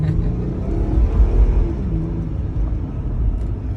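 A twin-turbo 2017 Mercedes-AMG CLA45 engine growls from close by during a late-night drive, a loud, steady low rumble with slight surges in revs and no talking.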